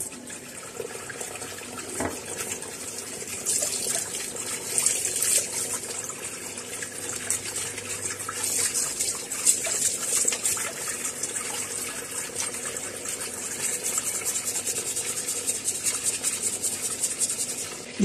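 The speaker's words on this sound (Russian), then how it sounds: "также включаем воду" Tap water runs steadily from a faucet while jewelry is rinsed, a continuous close hiss and splash for about eighteen seconds with small rubbing and clinking touches.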